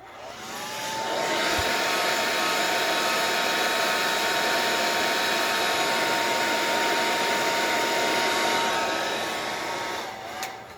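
A heat tool blows steadily to dry ink on a stamped mixed-media paper tag, a loud, continuous whirring roar that starts abruptly, holds for about nine seconds, then cuts off, with no talking.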